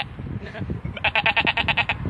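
A person imitates a goat bleating, a rapid string of about eight nasal pulses after a moment of background chatter.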